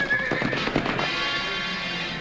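A bunch of horses whinnies loudly up close, with hooves clip-clopping beneath in a quick, uneven patter that fades into a steadier drumming.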